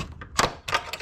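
The needle bar of a knitting machine is slid out during deep cleaning, giving a few quick clacks and two short scraping thuds close by.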